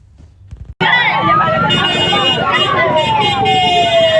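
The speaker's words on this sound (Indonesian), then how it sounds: "ambulans, ambulans. Itu ambulans." Ambulance siren wailing loudly and close by right after a road accident in Indonesia, its tone sweeping steadily over street noise, with people talking urgently nearby.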